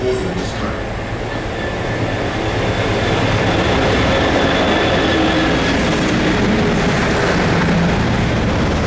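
A train stands at a UK station platform at Peterborough, Doncaster or York, its engine humming loudly and steadily with faint rail squeals and clicks, and muffled announcements running underneath.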